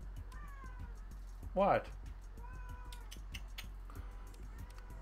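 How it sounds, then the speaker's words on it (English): A cat meows indoors, one short rising meow that stands out briefly from steady background noise while a person talks nearby. "Cat came in here and started meowing."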